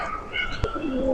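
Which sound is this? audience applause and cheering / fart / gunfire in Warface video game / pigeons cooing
pigeons cooing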